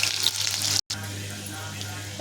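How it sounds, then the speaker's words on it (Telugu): Ginger dropped into hot oil in a kadai for tempering fries with a steady close sizzle, broken by a brief cut in the sound. "కొంచెం అల్లం తాలింపు పెడతాను."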